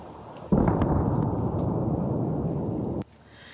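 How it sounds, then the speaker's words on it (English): A sudden loud blast in Beirut's southern suburbs, followed by a dense roaring rumble that holds for about two and a half seconds before cutting off. "explosions ringing out in the capital's southern suburbs"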